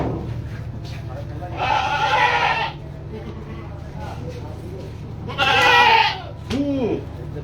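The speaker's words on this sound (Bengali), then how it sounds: "ছাগলগুলো একা একা নামানো হচ্ছে।" Goats bleat at a busy goat market before Eid sacrifice, two loud drawn-out calls standing out over a constant crowd murmur and a low engine hum, with people talking throughout.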